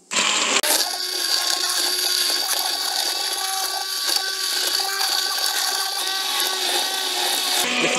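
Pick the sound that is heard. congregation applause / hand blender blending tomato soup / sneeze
hand blender blending tomato soup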